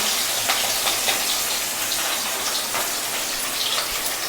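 Water runs steadily, close and moderately loud, for watering plants on a balcony in the morning. The flow is continuous with faint splashing and no talk.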